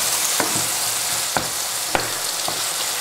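A vegetable sauce for a vegetarian lasagna cooks in a pan with a steady, close frying sizzle, broken by a few soft clacks of a utensil stirring, and no talking.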